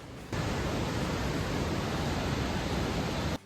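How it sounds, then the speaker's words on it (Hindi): The Kali river roars along a mountain road on the Pithoragarh to Gunji route, a loud, dense, steady rushing wash of water that begins and ends abruptly. No one speaks. "काली नदी का शोर।"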